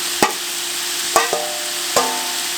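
Chopped pork being stirred into a thick, reduced syrupy sauce in a pan, three sharp spoon knocks against the pot spaced about a second apart over a low steady hiss of the hot sauce.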